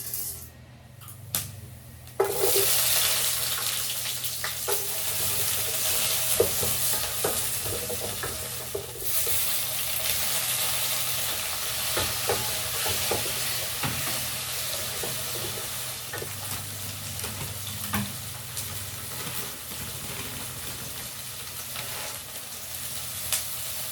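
Sesame oil heating in a pan for Tamil fish curry, a steady hiss and sizzle with occasional stirring and clinks, close and continuous for well over twenty seconds.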